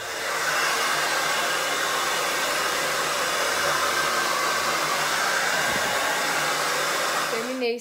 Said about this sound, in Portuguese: E agora eu vou secar ele aqui e depois eu volto.